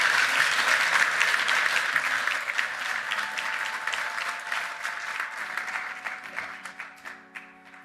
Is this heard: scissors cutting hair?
no